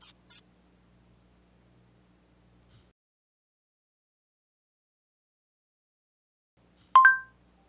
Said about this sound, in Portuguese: Este é o som de um camundongo.